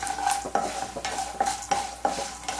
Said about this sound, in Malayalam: ഇതൊന്ന് ഫ്രൈ ആയിട്ട് വന്നോട്ടെ